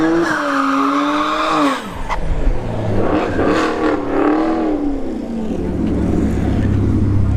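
Tires squeal and engines rev at a drag racing event, a Chevrolet Camaro RS LT1 drag car among them, with rising and falling pitch sweeps and a loud engine roar building toward the end.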